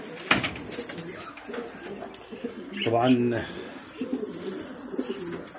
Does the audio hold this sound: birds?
yes